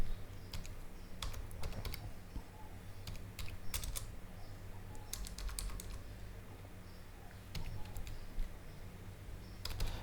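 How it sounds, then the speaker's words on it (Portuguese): Keys tapped on a computer keyboard while a number from a small paper slip is entered during setup of a QNAP TS-832X NAS, clustered bursts of clicks with pauses over a steady low hum, no talking. "Então, vamos digitar esse número aqui."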